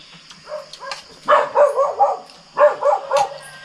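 Barks from an askal, a Filipino mixed-breed dog, come in two close bursts of three or four sharp woofs each, loud and near, with no talk over them.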